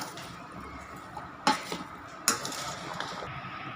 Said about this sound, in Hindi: अब हम इसको मिक्स कर लेंगे अच्छी तरह।